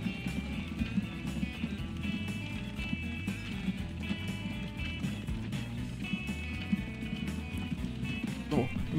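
Steady rhythmic hoofbeats of a galloping horse in the video game Transport Fever run throughout over a low rumbling background, with a sustained tonal hum above.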